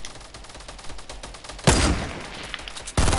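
Fortnite gunfire comes as rapid bursts of shots, with two louder, heavier volleys landing close together near the end.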